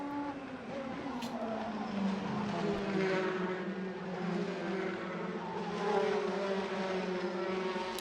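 Formula 3 race cars roar through the next-to-last corner of the Macau street circuit during a 2015 Intercontinental Cup race, a steady dense engine drone with passing swells and no talk.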